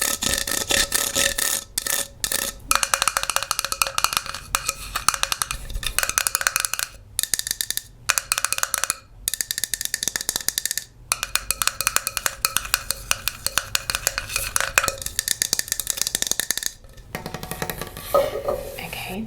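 Fingertips tap and scratch a plastic measuring cup for an immersion blender in fast, dense, close clicking runs broken by short silent pauses.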